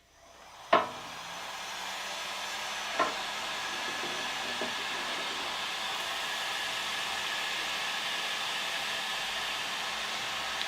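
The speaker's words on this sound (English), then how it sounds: "I'm going to use the heat shrink gun to heat up all the heat shrink." A heat shrink gun blows hot air onto heat shrink tubing over the battery leads of a LiFePO4 battery in a workshop, a click then a steady close whooshing hiss with a couple of light knocks.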